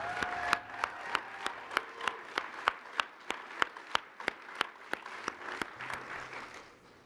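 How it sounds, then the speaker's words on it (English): Applause at an alumni awards ceremony, sparse and fairly quiet, dominated by a few distinct, evenly spaced sharp hand claps repeating steadily about three per second, over low room noise. "Let's give Miss Allen another round of applause."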